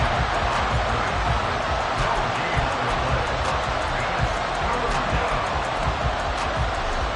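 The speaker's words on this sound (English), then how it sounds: "this crowd doing their best to make a lot of racket" In the Madden 24 football game, a simulated stadium crowd makes a steady, dense roar with faint bursts of cheering, heard throughout under a commentator's talk.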